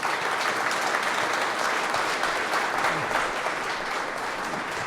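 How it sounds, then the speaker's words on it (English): An audience at a breakfast panel gives a round of applause, a thick, even stream of clapping from a large crowd lasting the whole stretch without pause. "let's give a round of applause to these guys"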